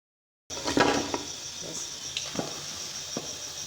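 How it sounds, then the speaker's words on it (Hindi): Batter dropped into hot ghee in a kadai over low heat gives a steady soft sizzle and hiss, with a few light clinks of utensils, close up and no talking. "कढ़ाई में घी को गर्म कर लिया है। हल्की सी आंच पे पकाएंगे ताकि ये अंदर से भी पक जाए।"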